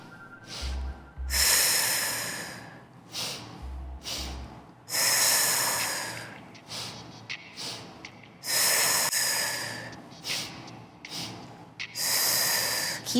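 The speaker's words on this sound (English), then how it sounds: "a 2-count breath in and 1 big exhale right into the center" Deep, forceful breaths during a Pilates mat core exercise, close and loud: a series of strong rushing breath bursts with short pauses between them, some brief and sniff-like, others long drawn exhales, and no talking.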